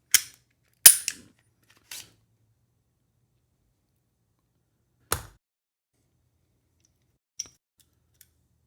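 Glock 48 MOS pistol being taken apart: a few sharp metallic clicks and snaps, close and isolated, separated by long silent gaps.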